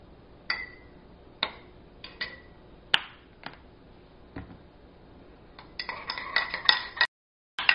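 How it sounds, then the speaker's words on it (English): A metal spoon stirring honey into hot tea in a cup clinks sharply against the sides in a series of separate taps, then a quicker run of ringing clinks near the end, close and clear, with no talk. "Got to really stir it so it dissolves"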